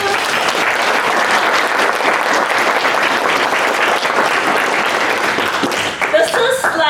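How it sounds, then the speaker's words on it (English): A final round of applause from an audience at a community learning session in Waikato, dense continuous clapping for several seconds, with a few scattered chuckles and a voice near the end. "So yeah, last round of applause."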